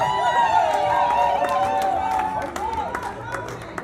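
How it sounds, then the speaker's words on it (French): Applause and cheering from a crowd at a civil wedding, clapping mixed with excited voices and chatter, fairly loud and close, tapering slightly near the end. "Vos applaudissements s'il vous plaît."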